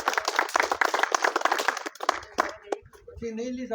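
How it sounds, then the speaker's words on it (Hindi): A group claps in a home setting, a burst of dense hand claps lasting about two seconds before fading into a few isolated claps, followed by a voice speaking. "तालियां बजाओ"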